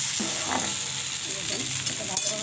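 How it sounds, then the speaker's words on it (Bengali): Potatoes and eggplant sizzle in a pan with five-spice seasoning, a steady close frying hiss with occasional stirring scrapes and no talk. "আলুটাও তুলে দিলাম বেগুনের সঙ্গে, এটা কিন্তু একবারে ভেজে করে নিচ্ছি 5 ফোড়ন দিয়ে"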